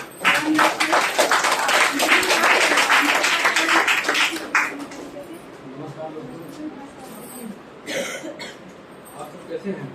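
Audience applause welcoming a speaker at a venue program in Shankargarh, a dense wash of clapping for about four seconds that then drops away to scattered claps, murmurs and light crowd noise.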